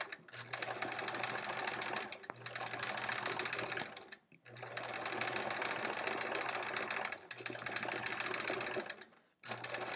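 A sewing machine runs at speed while free-motion quilting a quilt-as-you-go sampler block, its rapid needle hum close and steady in bursts of about two seconds, each cut off by brief pauses.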